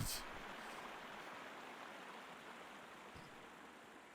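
Continuous flowing water in a Roman city in the Sherlock Holmes: Crimes & Punishments game, a dense, steady rushing wash, loud and close, with a brief knock at the very start.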